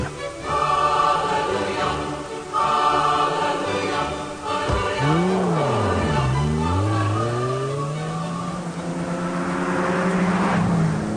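An Aston Martin DB7 engine revs and accelerates up close, loud, its pitch sweeping up and down in rising surges before climbing steadily, with no talking.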